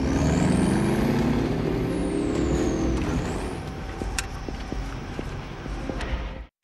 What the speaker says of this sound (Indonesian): Saat ini mereka bergerak dengan 2 unit kendaraan, yaitu 1 mobil ambulan dan 1 truk tronton.